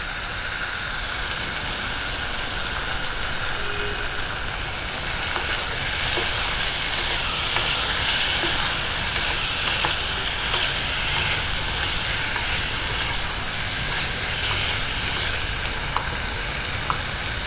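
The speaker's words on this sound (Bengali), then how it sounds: "খুব ভালো করে নাড়াচাড়া করে দিচ্ছি।" Paneer being stirred in a frying pan for a Rath Yatra bhog dish, a steady bright sizzle with soft scraping and occasional clinks running throughout at a close, even level.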